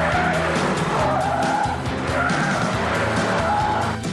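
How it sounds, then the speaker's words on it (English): A 2005 VW Touareg SUV with air suspension drives over a bumpy road, a loud continuous rumble of engine and tyre noise close by with no talking. "Despite the air suspension, the VW Touareg is only so-so on bumpy roads."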